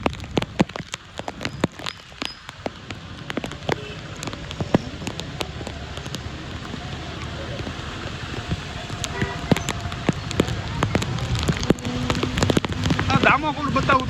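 Heavy rain falls steadily outdoors during a Guru Purnima gathering in Bhavnath, a dense continuous patter with sharp splashes and drips throughout, and faint voices and other activity in the background.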